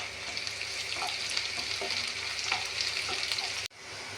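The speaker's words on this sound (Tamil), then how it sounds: "ஒரு 20 பல் பூண்டை பொடி பொடியாக நறுக்கி 5 பச்சை மிளகாயும் சேர்த்து நன்றாக வதக்கவும்" Garlic and green chillies, finely chopped, sizzle and fry steadily in a hot pan, a continuous close crackle with small stirring bursts, cutting off abruptly near the end.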